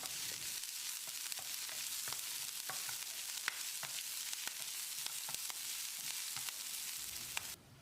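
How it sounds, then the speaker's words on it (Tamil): Fennel seeds, cumin, chopped ginger and green chili frying in oil in a pan, a steady dense sizzle with scattered crackles and pops throughout, close and loud, ending abruptly. "ஒரு 10 செகண்ட் இதை ஃப்ரை பண்ணி விட்டுறலாம்."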